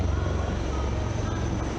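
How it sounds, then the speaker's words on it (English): Three helicopters fly over in Vic formation during a Republic Day parade in New Delhi, a steady loud rotor and engine drone filling the whole stretch without a break. "A lone helicopter, rather 3 helicopters in Vic formation as they move forward"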